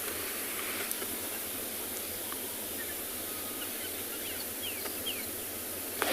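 A radio gives off a constant, even static hiss with no breaks, with a few faint, brief chirps just audible beneath it.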